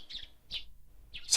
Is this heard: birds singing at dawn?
yes